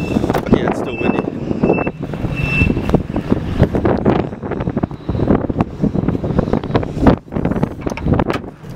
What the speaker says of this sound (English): Yeah, it's still windy.